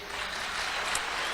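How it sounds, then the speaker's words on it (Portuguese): A Methodist church congregation in Arapongas applauds during a Sunday service, a soft, even wash of clapping spread across the room, steady and moderately distant without a break. "Então aplauda o Senhor teu Deus."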